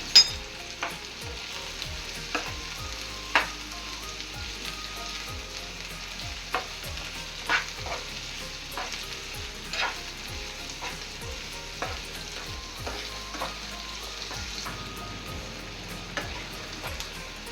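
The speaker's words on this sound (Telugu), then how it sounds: "ఈ సన్నగా తరుక్కున్న ఉల్లిపాయలను వేసేసుకున్నాం" Thinly sliced onions fry in hot oil for an egg bhurji, a steady close sizzle punctuated by frequent sharp scrapes and clicks of stirring, with no one speaking.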